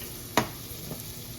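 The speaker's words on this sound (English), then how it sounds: "now I'm taking some butter and spreading it all over the pan" Butter sizzling in a hot pan as it is spread, a faint steady fizz with one sharp scrape and a softer one after.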